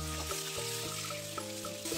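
Pointed gourd frying in a pan with turmeric, a soft, steady sizzle at low volume, close by, with faint clinks and stirring and no voices.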